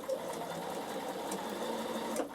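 A Bernina sewing machine stitches chiffon fabric, making a steady, close mechanical whirring that runs for a couple of seconds without pause.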